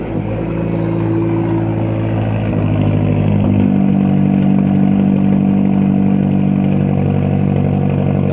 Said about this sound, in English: Now that cold start is loud. Ooh, got some pops too.